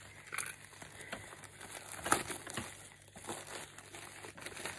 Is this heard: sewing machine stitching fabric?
no